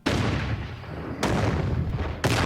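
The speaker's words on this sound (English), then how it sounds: "you're just asking for an explosion." Three heavy booming blasts from a TV show explosion effect, each a sudden loud crack with a decaying rumble, evenly spaced.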